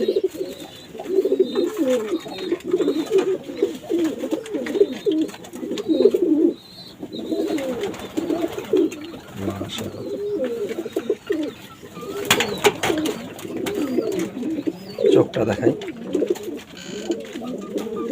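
A Pakistani-breed pigeon coos repeatedly in low, rolling calls, close and clear, with a few soft rustles in between.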